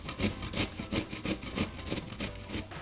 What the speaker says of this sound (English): I'm going to use the larger side of a box grater to grate this pear with the skin on